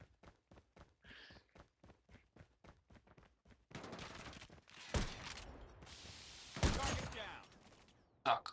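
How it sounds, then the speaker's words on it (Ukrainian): Gunfire from a firefight in Call of Duty Mobile, first a string of sharp evenly spaced shots, then dense sustained bursts of automatic fire with loud peaks, ending in a final close blast. "Так, там перестрілка."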